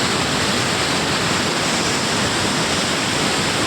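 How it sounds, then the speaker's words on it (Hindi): Water surges through an open gate of the Indrapuri barrage dam in Rohtas, Bihar, a steady, loud, broadband roar that fills the whole moment with no breaks and no voices. "पानी गेट ओपन हुआ है और पानी का रफ्तार आपको देख के अंदाजा चल जाएगा"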